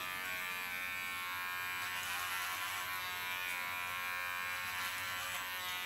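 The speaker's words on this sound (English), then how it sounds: "this part I will still do with clipper" A steady, close electric hair clipper buzzes continuously as it cuts hair during a salon haircut, with no talk over it.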